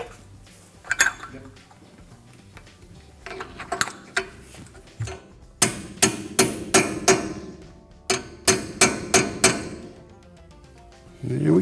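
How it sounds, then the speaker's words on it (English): A cotter pin is bent over a castle nut and its excess clipped off during a front disc brake upgrade with dropped spindles on a 1967-1972 Chevrolet. It sounds as a run of sharp metallic clicks and taps, close and fairly loud, in quick bursts. "I like to bend one up and over the spindle and then cut off the excess on the other one."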